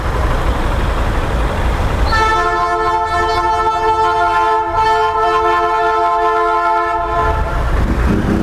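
A train rumbles loudly past, its horn blaring in one long, sustained chord for several seconds over the heavy roar of rolling wheels.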